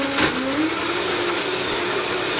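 A blender whirs steadily through a chocolate-mint smoothie with ice, a loud continuous motor drone whose pitch rises slightly as it runs, close by with no talking.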